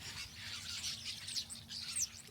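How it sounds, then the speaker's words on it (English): A large flock of starlings at the Peach Orchard on the Gettysburg battlefield, a dense steady wash of overlapping chirps and squeaky calls, fairly distant, with no talk over it. "So many starlings."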